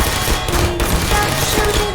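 Rapid, continuous automatic gunfire from a turret in the Portal video game, a dense steady rattle filling the two seconds without a pause.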